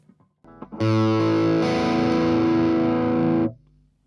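A distorted electric guitar chord through a digital gain plugin rings out loud and sustained for about three seconds, fuzzy and saturated, then cuts off abruptly.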